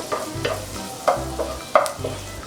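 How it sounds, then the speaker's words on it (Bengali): Garlic frying gently in butter as it is stirred, with a low sizzle and three sharp scraping clinks of a spoon against the pan, close and alone. "বাটার দিয়ে করার সময় রসুনটা দেওয়ার পর যে একটা স্মেল আসে"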